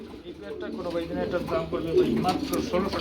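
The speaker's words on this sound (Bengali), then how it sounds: "আরেক জোড়া কবুতর রয়েছে রেসার কবুতর" Racing pigeons coo in soft, repeated throaty calls close by, running under continuous talking from people nearby.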